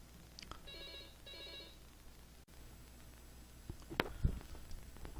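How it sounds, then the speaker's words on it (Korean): A telephone ringing during a lecture recording on electrical machines, two short trilling bursts of the ring in a quiet room, followed by handling clatter and a faint knock. "중요한 전화가 와가지고"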